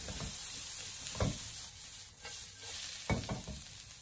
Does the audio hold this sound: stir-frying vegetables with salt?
yes